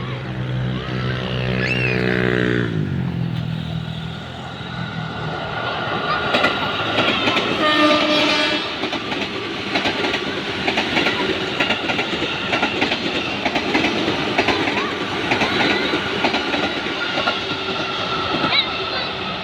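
A train horn sounds at the start, then an Indonesian KRL electric commuter train roars past close by with continuous clattering wheels and rumbling.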